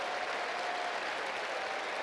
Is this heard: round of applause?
yes